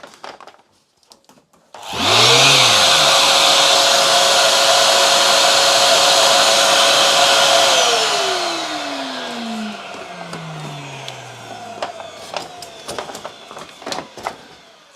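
A workshop power tool with shop vac extraction starts with a sharp rising whine and roars loudly and steadily for several seconds. It then winds down with a falling pitch, followed by scattered light clicks and knocks.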